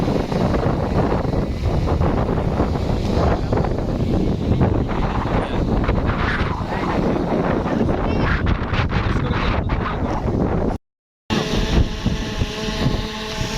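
Wind gusts across a bank of the Gorai river, buffeting the microphone in a loud, continuous rumble that stays steady throughout, broken by one short dropout near the end.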